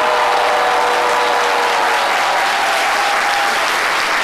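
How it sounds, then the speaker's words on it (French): A studio audience on a French TV talk show breaks into loud, dense applause that holds steady and sustained for the whole stretch, with no talk over it. "Je demande des applaudissements."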